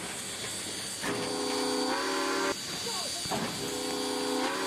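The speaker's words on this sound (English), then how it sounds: "and some steaming." A Roblox video game train vents steam, a continuous hiss with tonal whistle-like layers that cut in and out, while a voice talks faintly underneath.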